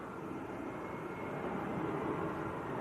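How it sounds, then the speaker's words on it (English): An EasyJet Airbus A320 arriving from Pisa and landing at Manchester Airport gives a steady, broad jet roar that swells slightly toward the end, heard from a distance with no other distinct sounds. "Now next to land, EasyJet from Pisa."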